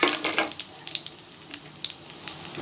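Whole spices temper in hot oil in a wok, a close, bright sizzle broken by quick, irregular pops and spits that stay lively throughout.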